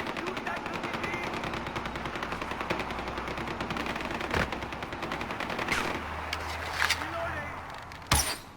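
Sustained automatic gunfire in Far Cry 4 aimed at a charging bear, dense rapid bursts running through the whole stretch with a few sharper shots near the end, a voice speaking over it.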